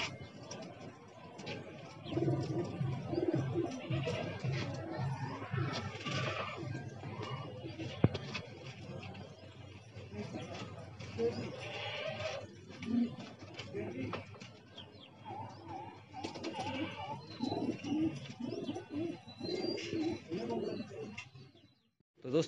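Tonk pigeons coo softly in a loft, low repeated cooing and rustling wing sounds running continuously through the clip, fairly quiet, with people talking intermittently nearby.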